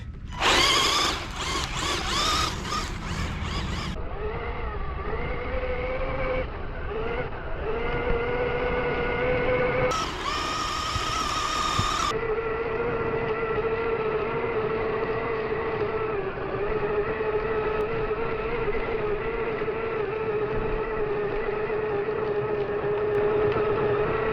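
The whining electric motor of a Kyosho Javelin 4WD RC buggy revs and surges continuously in a park, pitch rising and falling as it speeds around, fairly close throughout.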